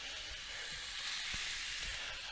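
A steady bright sizzle hisses continuously, close and fairly loud, as steak sears in a cast iron pan preheated in a 400-degree oven, with a few soft low thumps underneath.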